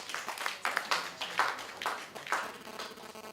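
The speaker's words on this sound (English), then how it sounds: "A round of applause for that fantastic." A small audience applauds after a talk on digital radio, a soft, fairly distant patter of hand claps that swells and fades in uneven waves.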